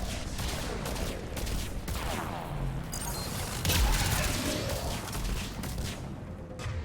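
Dense, continuous gunfire from the video game Mass Effect 3 fills the whole stretch, with bursts and bangs overlapping into a steady barrage and one louder surge midway, while a player talks over it.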